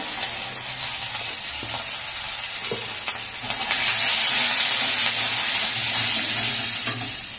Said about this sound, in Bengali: এবার আদাটা দিয়ে দিয়েছি। একটু হলুদও দিয়ে দিলাম সঙ্গে।